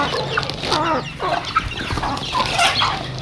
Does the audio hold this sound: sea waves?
no